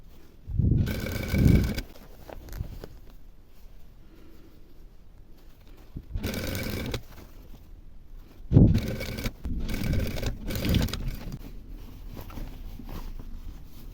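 A sewing machine stitching a hem on jeans runs in short bursts of rapid mechanical whirring with quiet pauses between them, close and moderately loud.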